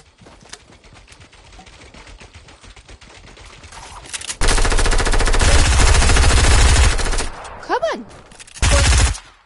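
Automatic gunfire from a player's favourite gun in a video game comes in two loud, rapid bursts, a long one followed by a short one. Someone speaks briefly between them.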